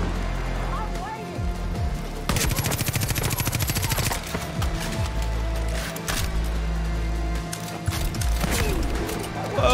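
Automatic gunfire rattles in Far Cry New Dawn, long rapid bursts and scattered single shots over a busy game mix. Someone talks over parts of the shooting.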